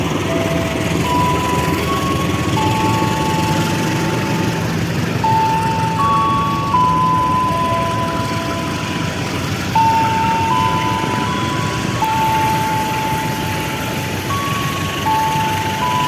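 The Java Priority passenger train pulls out of Purwokerto station, a continuous rumbling roar overlaid with steady, repeating high tonal signals throughout.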